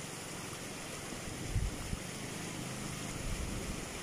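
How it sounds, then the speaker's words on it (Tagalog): A strong river current rushes past as locals paddle a boat across the river at Barangay Daraitan, Tanay, Rizal. It makes a steady wash of moving water with a few dull knocks, close by, with no talk. "napakalakas po ng agos po talaga ng tubig dito"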